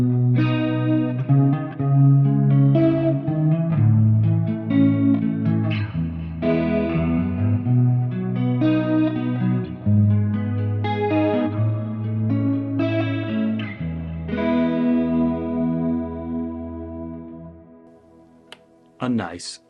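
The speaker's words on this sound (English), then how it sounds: "We're using a digital stereo chorus running in series" Clean electric guitar tone through a Brit JVM amp with digital stereo chorus in series, delay and reverb, playing sustained chords and melodic lines with shimmering, echoing tails, ending in a brief click.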